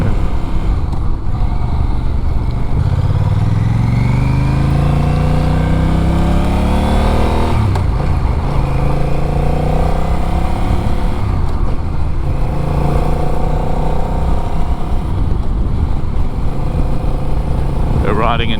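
Honda Rebel 1100 motorcycle ridden in standard mode, its engine rising in pitch through several gear pulls with a steady, loud onboard drone and wind rush, with brief shifts between climbs.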